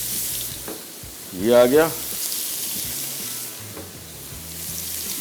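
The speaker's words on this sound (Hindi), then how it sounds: "सबसे पहले पैन में हमने चिकन डाल दिया, इस तरह खुला खुला डालेंगे। पैन खूब गर्म होना चाहिए" Chicken sizzles in a very hot pan with a loud, continuous hiss and occasional stirring, close up. A person speaks briefly over the frying.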